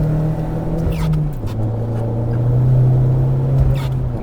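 A car cruises on a highway on Nexen Winguard Winspike 3 winter tires, with a loud, steady engine drone that dips briefly in pitch as gears shift, over a constant road rumble from the tires.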